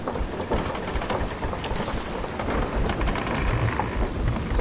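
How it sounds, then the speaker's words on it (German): Heavy rain pours with thunder rumbling during a storm at sea in the Sea of Thieves video game, a dense, loud and continuous wash of noise with no talking. "What a stormy sea!"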